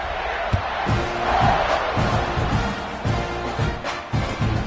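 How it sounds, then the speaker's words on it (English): Football stadium crowd at a college game between UTSA and Texas A&M, roaring in a steady dense wash, with rhythmic chanting pulses and scattered shouts through the whole stretch. "this crowd is feeling themselves after that last drive"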